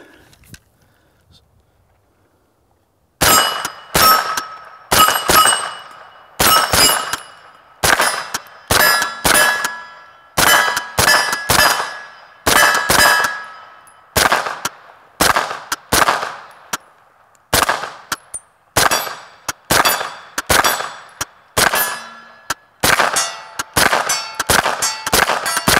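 Match grade 9mm rounds fire at a range in quick irregular volleys after a quiet start, each sharp report paired with a ringing clang of a steel target hit, loud and close.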